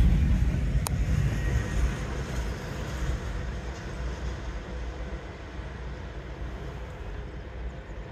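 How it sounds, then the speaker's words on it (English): An intermodal freight train passes on track two, a steady loud rumble and rolling roar that holds close and continuous throughout, with a sharp brief clank near the start. "I'm gonna pause it for the train on track two."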